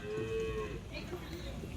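A Holstein Friesian dairy cow at the Loni cattle market lets out a long, drawn-out moo, with a second lowing call following over a busy, noisy market background.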